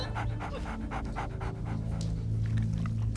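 A dog pants rapidly and steadily, close by, with a low background hum underneath.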